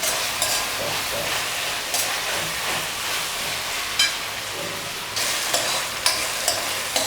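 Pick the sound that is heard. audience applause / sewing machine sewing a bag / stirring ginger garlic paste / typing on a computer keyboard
stirring ginger garlic paste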